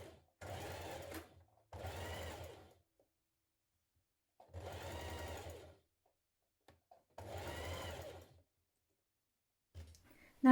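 Sewing machine stitching a teddy bear seam runs in four separate bursts of a second or so each, steady mechanical whirring with brief pauses between, fairly close and alone.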